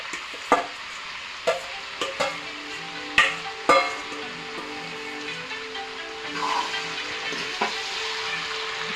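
Pork frying in oil with boiled bamboo shoot and potato pieces, a steady sizzle broken by several knocks and scrapes of a spoon stirring the pan, with no talk.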